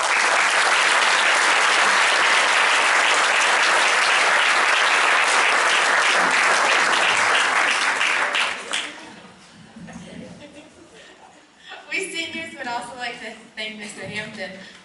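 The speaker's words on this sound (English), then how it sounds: "So give them a round of applause too." An audience at a high school senior choral awards event gives a loud, sustained round of applause lasting about nine seconds, then it fades as a speaker begins talking.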